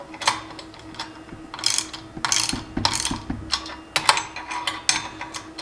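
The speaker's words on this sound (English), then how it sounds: "put your ratchet on in tighten mode and tighten these bolts up." A ratchet wrench with a 24 mm socket clicks in short bursts while bolts are tightened on a KarooRak rack, the close metallic ratcheting stopping and starting between turns.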